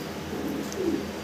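Fancy hen pigeons in a loft give a soft, low coo, faint and drawn out, against a steady quiet background with no talking.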